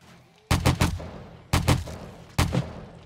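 Automated turrets in the survival game 7 Days To Die fire during a Blood Moon night, producing three loud, close bursts of rapid booming shots separated by brief pauses.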